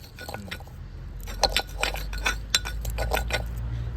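Honey being stirred into fish bait for catching tengra, koi and puti, giving wet squishing with repeated light glassy clinks and taps of a spoon against the container, close and steady throughout.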